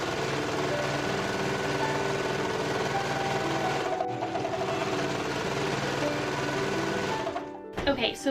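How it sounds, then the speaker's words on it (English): A sewing machine runs steadily while stitching the side seams of a skirt, a close, continuous mechanical whir with a brief slowdown midway, stopping near the end with a few handling clicks. "I first need to sew the sides of my skirt together, matching up those side seams, and then sewing down and around my pockets."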